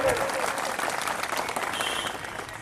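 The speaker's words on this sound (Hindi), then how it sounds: "आप लोग ने आज ताली मारा" A rally crowd applauds in a dense, fairly distant patter of many hands, fading slightly toward the end, with faint voices mixed underneath.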